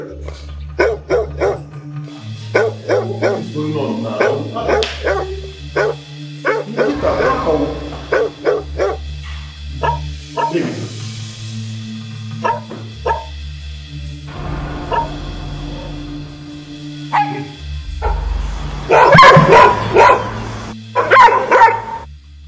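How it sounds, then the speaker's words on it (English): A dog barks and yips repeatedly in a tense drama scene, loud and close, mixed with shouting and talking voices and underlying music. "How can Samantha be this careless with her dog?"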